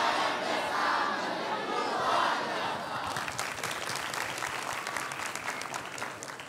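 Villagers at a quiz show in Desa Kukuh, Tabanan, Bali break into cheering and shouting that settles into steady, crisp applause, heard fairly faint from the crowd.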